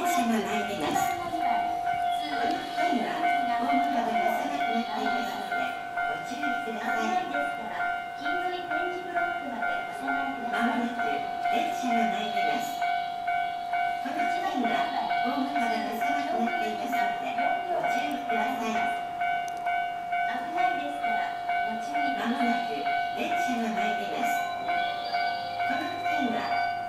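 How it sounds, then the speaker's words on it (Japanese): A JR Nara Line 103 series electric train rolls into Tofukuji Station at night with rhythmic rumbling while a steady tonal hum and chime-like tones ring over it, with faint voices. "まもなく電車が参ります。"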